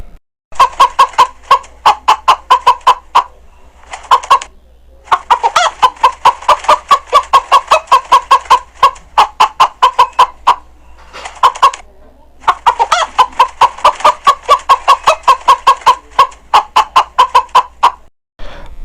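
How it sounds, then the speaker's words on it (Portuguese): A chicken clucking on a farm in long runs of rapid loud clucks broken by brief pauses, close by and with no other sounds. "galinha"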